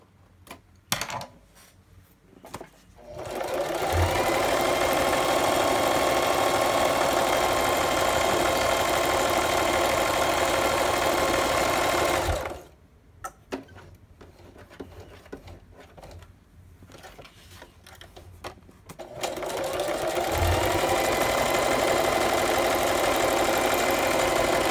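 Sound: sewing machine stitching paper

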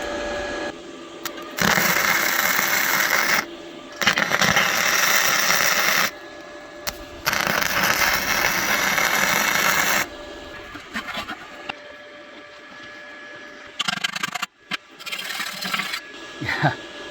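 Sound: MIG M100 gasless inverter welder welding steel

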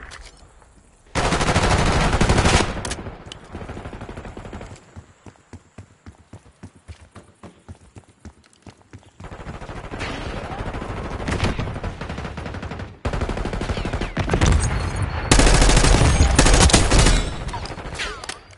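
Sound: gunfire in Black Ops 6 video game

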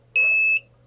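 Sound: burner control flame-failure alarm beeping

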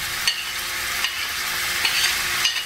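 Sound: sautéing green and red peppers with scallion

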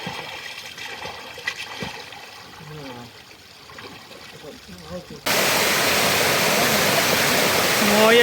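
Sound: small waterfalls in Singaraya valley

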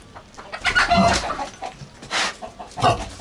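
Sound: chickens clucking

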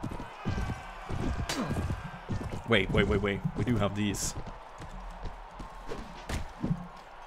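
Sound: horse hooves galloping in Mount & Blade Warband video game

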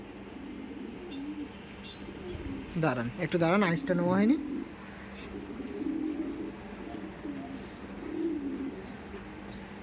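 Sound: Rampuri pigeons cooing

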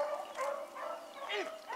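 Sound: beagle pup barking during rabbit training

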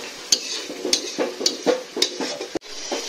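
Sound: stirring and frying tomato paste in a pan

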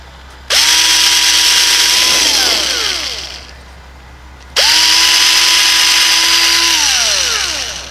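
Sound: small drill bit drilling a pilot hole in wood

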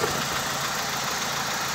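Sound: Daewoo Nexia car engine running

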